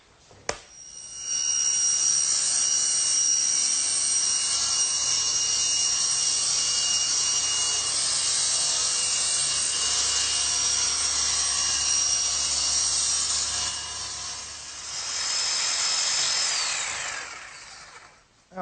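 Electric jigsaw cutting a slot in a workbench's wooden top, a loud, steady, high buzzing whine held for about fifteen seconds, easing near the end before stopping.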